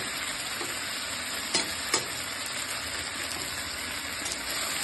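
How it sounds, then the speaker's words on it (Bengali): New potatoes and cauliflower fry in a pan with a continuous close hiss and sizzle, two sharp stirring clacks standing out briefly, no voices. "উঠিয়ে নিই, এটা নতুন আলু উঠেছে, সেটা দিয়ে ফুলকপি আলুটা ভাজি"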